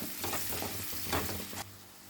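Small amla gooseberries with salt fry in oil for pickle, making a dense, close sizzle with stirring scrapes that drops abruptly to a softer hiss near the end.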